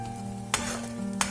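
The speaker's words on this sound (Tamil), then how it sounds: "நெய், இந்த பாதாம் பருப்பு அரைச்சது இது எல்லாமே நல்லா கலந்து வர மாதிரி கிளறி" Ground almond paste and ghee stirred in a pan for almond halwa, a close sizzling bed with two sharp scraping strokes of the spoon about half a second apart.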